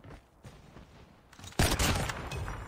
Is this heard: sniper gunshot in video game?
yes